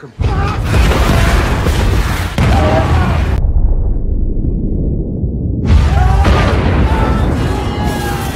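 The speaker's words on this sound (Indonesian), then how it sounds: "Dan tak lama terjadi ledakan kedua yang lebih besar." Second, larger explosion inside a submarine in the film Kursk: heavy booming blasts with a roaring rumble that cuts out briefly, then returns with another massive surge.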